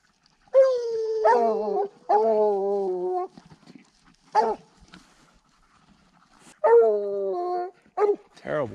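Young hound dogs bay and bark while trailing in hot desert country, long drawn-out howling bays alternating with short sharp barks, fairly close and loud, with quiet gaps between.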